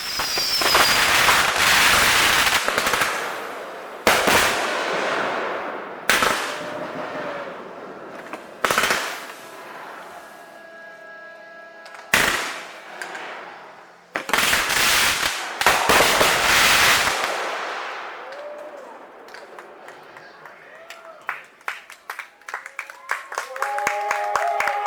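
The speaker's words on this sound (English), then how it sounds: "later we would end the day with a fireworks show" Fireworks at the end of a day on a Michigan road trip: loud booms and crackling bursts come in irregular volleys, each trailing off into fizzing, with a faint murmur of onlookers between blasts.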